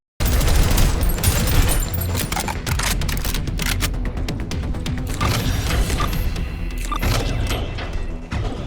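Rapid SMG gunfire in the first-person shooter Prodeus, a dense, loud stream of shots with mechanical clatter and booming impacts, continuous across the whole stretch with no talking.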